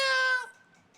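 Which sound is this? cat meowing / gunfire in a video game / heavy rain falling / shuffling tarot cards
cat meowing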